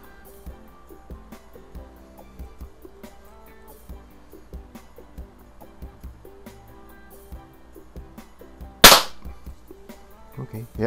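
A Daisy model 1140 break-barrel springer air rifle fires a .177 pellet, one sharp loud shot standing out against quiet background music, followed by a smaller click or two.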